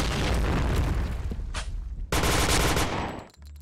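The SC 2010 TBA Gold gun fires in the online shooter Point Blank, with rapid close bursts of automatic fire, a brief lull with a single sharp shot, then another loud burst before fading.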